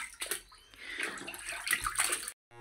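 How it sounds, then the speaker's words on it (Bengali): A goat's head is rinsed and scrubbed in water in a rural home kitchen, with steady splashing and sloshing close by for a couple of seconds before it abruptly stops. "এখন আমি মাংসটা মানে খাসির মাথাটা ধুয়ে নিচ্ছি।"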